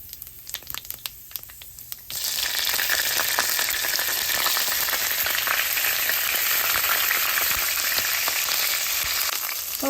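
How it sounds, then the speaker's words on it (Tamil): Okra and ivy gourd hit hot oil in a pan and fry, starting with a few scattered crackles, then bursting into a loud, steady sizzle that continues without pause. "இப்போ வெண்டிக்காயும் கொவக்காயும் பொரித்து போட்டு குழம்பு வைக்கிறேன்"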